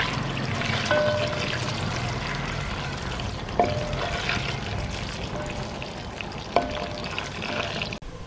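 Small chopped onions fry in oil in a pan for kofta pulao, a steady dense sizzle with a couple of sharp utensil clinks, close and fairly loud with no voices.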